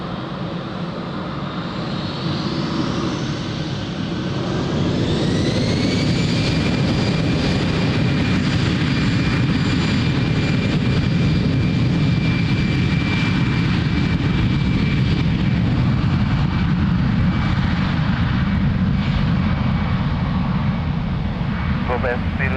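An Iberia airliner takes off at Lisbon Airport, its jet engines rising to a loud, sustained roar with a climbing whine that holds steady as it powers down the runway.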